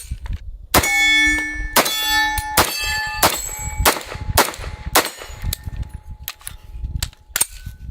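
Sharp, loud shots from a CMMG Mark 10 10mm Banshee AR pistol, fired one at a time in an irregular string of about a dozen reports with metallic ringing between them, at an outdoor range.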